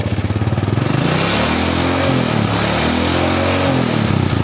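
Motorcycle engine revving during a battery and charging check on a bike with a battery that drains easily, a loud close pulsing engine note that rises and falls with the throttle, no talk.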